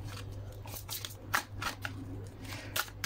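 Tarot cards are shuffled close by for a monthly cross-spread reading, with soft riffling and several sharper flicks over a low steady hum.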